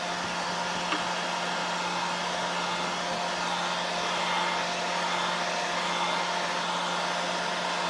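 A hair dryer blows steadily on metallic paint over button areas, a constant close whoosh with a low hum that runs unbroken from start to finish.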